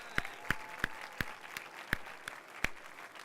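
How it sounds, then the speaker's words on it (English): Audience at a startup pitch competition finale clapping for the challengers: a sparse, thin patter of separate claps, fairly soft and somewhat distant, with no cheering. "How about we give a round of applause to all of our challengers?"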